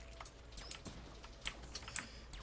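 Sparse, faint clicks of computer keyboard keys being tapped, a few sharper keystrokes standing out over quiet background hiss, with no talking.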